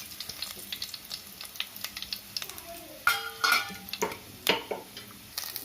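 Spices for tempering crackle and sizzle in about four spoonfuls of hot oil in a pan for mutton kola urundai kuzhambu, with sharp pops, soft stirring scrapes and a few metallic taps close by.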